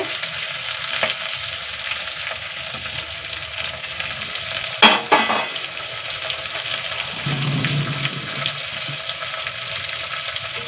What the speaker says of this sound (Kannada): ಈಗ ಇದು ಸ್ವಲ್ಪ ಕೆಂಪಾಗೋವರೆಗೂ ಎಣ್ಣೆಯಲ್ಲಿ ಹುರ್ಕೋಬೇಕು